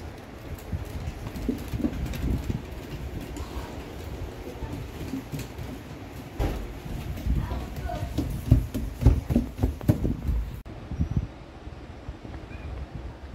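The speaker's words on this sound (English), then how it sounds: "I'm not even joking, there's so many birds everywhere." Pigeons coo around a beach house while many other birds are about, over a constant outdoor wash of wind and surf. Sharp knocks and rustles are heard close by.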